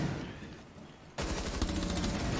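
Rapid bursts of gunfire in a shooting video game, loud and dense after a brief quieter stretch, continuing without talk.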